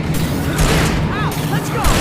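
Gunfire in Alan Wake Remastered: a handful of close, punchy shots over a rumbling game background, spaced unevenly and followed by short whistling tails.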